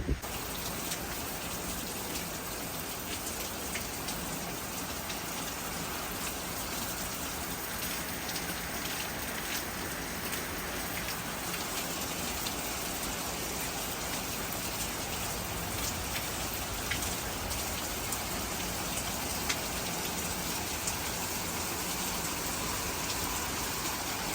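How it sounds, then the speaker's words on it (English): Steady, heavy rain pattering on surfaces in a farm field of corn and soybeans, a continuous dense hiss that holds evenly throughout with no voices. "It's raining. It's raining."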